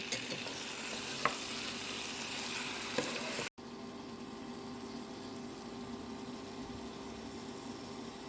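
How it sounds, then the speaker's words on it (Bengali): Meat sizzles in hot oil in a home kitchen pan for wedding-style curry, a steady crackling hiss with a couple of sharp spoon scrapes as it is stirred, then a quieter continuous fry. "গরম তেলের ভিতরে মাংসটা দিয়ে দিয়েছি এবার মাংসটা ভালো করে মিশিয়ে নেব"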